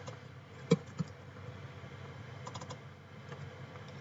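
Computer keyboard keys clicking for copy-and-paste shortcuts: a couple of sharp close taps near the start, then faint scattered clicks over a quiet background hum.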